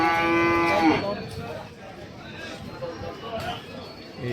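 A cow at the Gabtoli cattle market gives one long, loud moo at the start, followed by market chatter and background crowd noise on a rainy night.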